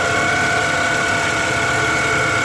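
A 2007 Toyota Camry engine idles steadily right after an alternator replacement, a loud, close, continuous mechanical drone with a belt whine and no talk.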